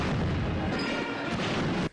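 Cannon salute at a Zambian presidential inauguration, part of a 21-gun salute: a continuous, loud, broad rumble of booming blasts that fills the short span and cuts off abruptly at the end.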